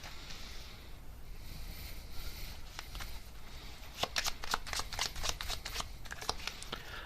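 Tarot cards shuffled and drawn for a reading, a quiet rustle early on giving way to a run of crisp, closely spaced card flicks in the second half, near and alone over a soft background hiss.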